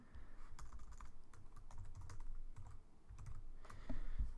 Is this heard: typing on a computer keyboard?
yes